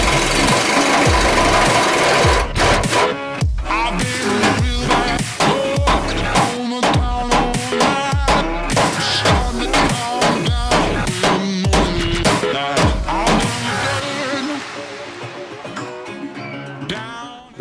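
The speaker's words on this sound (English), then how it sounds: "The easiest way I found was to drive them out with an air hammer." An air hammer drives out leaf spring bushings with rapid, harsh metallic hammering in repeated bursts, loud and close, continuing for many seconds with short pauses between strikes.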